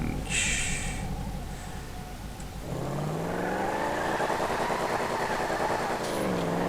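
After a few seconds of background noise and a brief high tone, a 1969 Ford Mustang Boss 302 engine in GTA 5 kicks in and revs loudly, climbing in pitch, with a voice briefly underneath.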